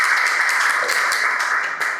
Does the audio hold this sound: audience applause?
yes